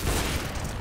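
A gunshot in the Counter-Strike video game, a single dense, loud blast with broad noisy energy filling the whole short moment, no voices.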